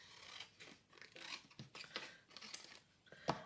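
Scissors snip through paper to trim a craft tag shorter, giving several quiet, irregular cuts and rustles at close range, with a sharper snip near the end and no speech.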